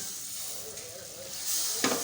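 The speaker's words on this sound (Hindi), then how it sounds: "तो थोड़ा सा पानी डाल के हम लोग इसको भून रहे हैं।" Tomatoes and seasonal vegetables for an aloo matar moongre curry frying in a pan with a little water, a steady close sizzle that swells louder near the end, with a brief sharp burst of hiss.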